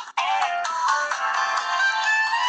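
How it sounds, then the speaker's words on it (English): A mobile phone plays a new ringtone, a bright, continuous electronic melody that starts abruptly and rings loud and steady throughout without any talk over it. "look, my new ringtone, my phone, it is epic, man"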